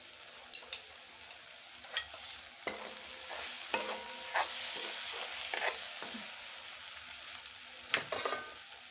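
Turmeric and ground spices cook in oil in a frying pan, a soft steady sizzle punctuated by sharp clacks and scrapes of a spoon stirring against the pan, with no voices.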